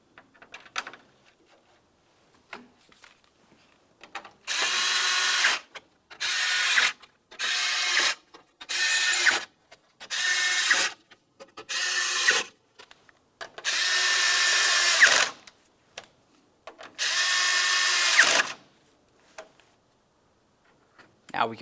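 A power driver runs in repeated short bursts, whirring and stopping about a dozen times, as it drives 5.5mm mounting screws along the front of a 2009-2019 Ford Flex bumper cover, with brief clicks between bursts.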